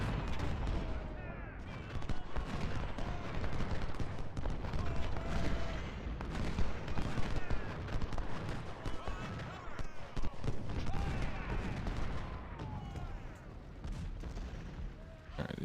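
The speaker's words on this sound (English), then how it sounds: "There's 2 large artillery batteries firing at them as well." Large artillery batteries fire in an Ultimate General: Civil War battle, a dense, continuous rumble of booms and volleys with scattered sharper cracks, steady and fairly loud throughout.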